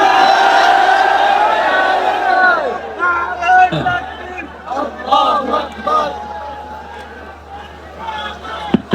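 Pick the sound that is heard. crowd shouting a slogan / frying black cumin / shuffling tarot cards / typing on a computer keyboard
crowd shouting a slogan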